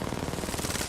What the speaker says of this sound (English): the only way I can realistically stay control of this is burst firing